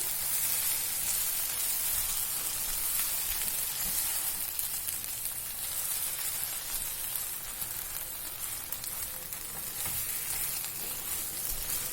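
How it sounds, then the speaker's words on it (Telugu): Eggs and onions fry together in a hot pan for a spicy egg pepper fry, giving a loud, steady, dense sizzle that runs unbroken throughout with no voices. "ఎగ్స్ కూడా ఆనియన్స్ తోని ఇలా బాగా ఫ్రై చేసుకోవాలి"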